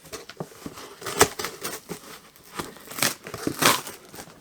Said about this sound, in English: Rather than embarrass myself, I will just cut this box down the side